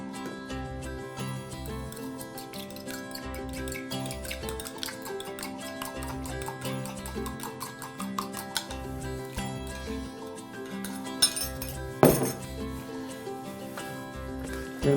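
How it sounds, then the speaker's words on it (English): Two whole room-temperature eggs being beaten gently in a bowl for peanut butter cookies, heard as a quiet steady run of fast ticking whisk or fork taps, with a louder clink near the end. "We're going to take 2 whole eggs, and I always like my eggs really room temperature."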